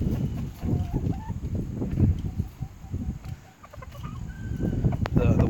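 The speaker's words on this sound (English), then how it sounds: "Chickens think" Hens cluck and chatter at close range in a farmyard in a Tennessee valley, with a rooster among them. A continuous, busy stream of clucks plays over outdoor background noise.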